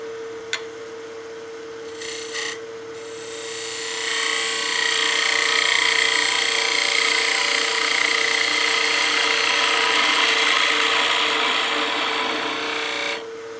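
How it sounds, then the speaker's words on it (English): Skew chisel cutting a small chamfer on a wooden witch block head spinning on a wood lathe: a steady, close hiss and scrape of the blade on the turning wood, starting after a few brief taps and running on evenly with no talk. "Throw a small chamfer on this side with the skew."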